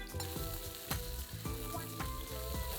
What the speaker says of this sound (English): Let's add 3 onions that are sliced and we're going to fry them